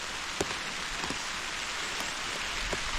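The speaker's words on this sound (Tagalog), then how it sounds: "Inabot na ng ulan, ayos na ayos na." Heavy rain pours steadily onto an eggplant planting field, a dense even hiss with scattered sharper drop impacts throughout, no voices.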